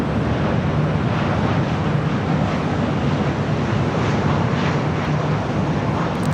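Turkish Airlines Boeing 787-9 Dreamliner at LAX, a steady broadband engine rumble mixed with wind buffeting, heard from a distance without letup and with no talk.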